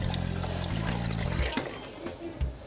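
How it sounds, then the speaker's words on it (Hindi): Water poured into a pot of simmering lamb korma, a steady gush and splash that gives way to softer bubbling and a few small plops. "थोड़ा सा और पानी ऐड करते हैं"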